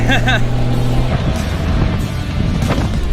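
Toyota 80 series 4x4 on a bumpy sandy bushland track with tyres aired down, giving a steady loud engine and cabin rumble with jolts and rattles throughout, no talk.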